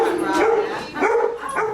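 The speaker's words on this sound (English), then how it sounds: "He's our 8-year-old Rottweiler." An eight-year-old Rottweiler weighing about 155 pounds at a self-serve pet grooming shop lets out three loud, close barks or yips in an uneven rhythm, sounding somewhat voice-like.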